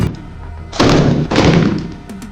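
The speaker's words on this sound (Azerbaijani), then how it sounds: "PK ilə qısa qatarlarla atəş" Short bursts from a PK machine gun fired at a soil-filled tyre, two loud close blasts of gunfire about half a second each, separated by a brief gap and followed by a fading tail.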